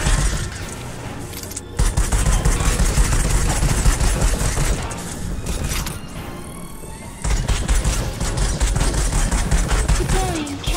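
A minigun in the VR shooter Raw Data fires in long, loud, rapid bursts, with a brief gap and a pause around the middle before the dense, crackling stream of shots resumes.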